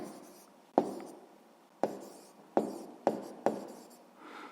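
A pen writes down the answer to a sixth-grade math word problem on paper, giving five sharp taps followed by short scratchy strokes, close and quiet, with a brief soft rustle at the end.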